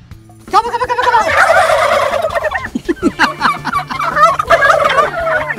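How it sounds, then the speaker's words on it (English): Several turkeys gobble loudly and close by at a Central Oregon farm, a burst of rapid warbling calls repeated in waves over a few seconds, with no talk. "I made turkeys talk."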